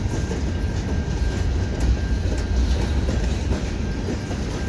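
A CN freight train hauling old Government of Canada hopper cars and some brand-new ones rolls past close by with a loud, steady rumble and rhythmic wheel clatter.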